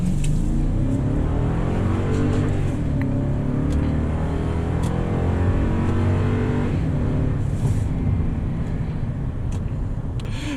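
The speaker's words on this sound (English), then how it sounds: "it does make a really good sound, this Toyota Tundra, when you get on it." A 2018 Toyota Tundra 1794 Edition pickup accelerating hard, its exhaust giving a loud, steady low roar that rises and swells across the run, close to the listener with no talking.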